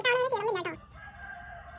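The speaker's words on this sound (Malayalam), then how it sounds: "ഈ കോഴി പിന്നെ രാവും പകലും രാത്രിയും ഒന്നുമില്ല ഇപ്പോൾ നോക്കിയാലും കൂവിക്കൊണ്ടിരിക്കും" A rooster gives a single loud, close crow lasting under a second. A faint steady background hum follows.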